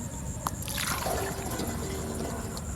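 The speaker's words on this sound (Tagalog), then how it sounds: "Tapos ibubuhos na po natin dahil may tubig na sa loob." Liquid poured into a container already holding water while preparing a herbicide solution: a brief splash then a continuous soft trickle over background noise, with a small click near the start.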